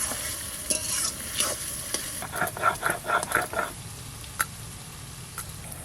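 Onion frying in a pan for an old-style chicken dish, a steady low sizzle with a burst of quick clicks and scrapes in the middle, close and alone with no talk.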